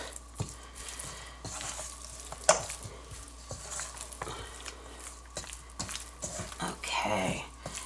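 Seasoning worked by hand into mock pork: soft, close squelching and slapping in irregular bursts, with a low steady hum underneath.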